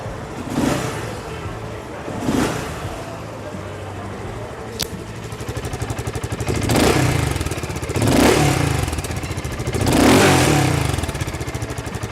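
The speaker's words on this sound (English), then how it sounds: "Interested to know what the BSA Gold Star 650 sounds like? Well, this is a single cylinder 652cc motor" The single-cylinder 652cc engine of a BSA Gold Star 650 motorcycle idles with a rapid, even thump and is blipped through several sharp revs that rise and fall, loud and close.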